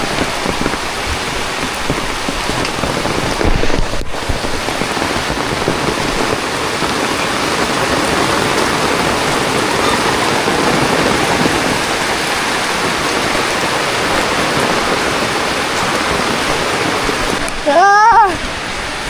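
Heavy typhoon rain pours with a dense, constant hiss as floodwater overflows, and brief clattering bursts and possible voices occur partway through and near the end.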